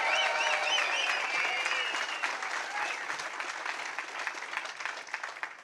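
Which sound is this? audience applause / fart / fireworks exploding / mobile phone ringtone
audience applause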